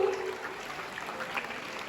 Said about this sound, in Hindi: इसलिए आप सभी निरंतर तालियां बजाते रहें